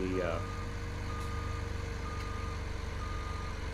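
A vehicle alarm in Farming Simulator 2017 gives a steady rapid beeping over the continuous drone of an idling farm machine engine, loud and close throughout.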